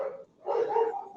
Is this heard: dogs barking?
yes